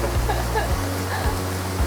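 A tiered, stepped waterfall in Shimane, Japan, heard as a steady, dense rushing roar of falling water with a few soft low thumps, and no talking.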